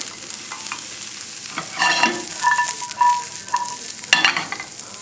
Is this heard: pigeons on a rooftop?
no